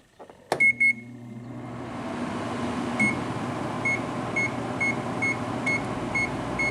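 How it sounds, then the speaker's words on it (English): An 8,000 BTU GE window air conditioner built by Samsung, with a Samsung compressor, clicks and beeps on, then a steady low hum rises as the compressor starts, with faint periodic beeps. "Compressor just started."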